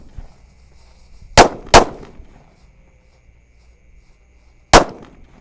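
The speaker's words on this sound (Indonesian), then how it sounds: "Kita lihat disco tor jeduk-jeduk happy flower warna merah ini." Red 'Happy Flower' disco firecracker set off at night during Ramadan, giving three sharp, loud bangs, two in quick succession and a third a few seconds later, over quiet background.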